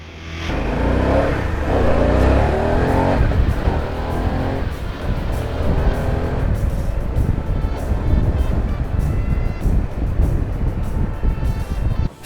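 A Harley-Davidson Pan America 1250 Special adventure-touring motorcycle is ridden on a fast road, its engine droning steadily under heavy rushing wind buffeting, loud and continuous throughout.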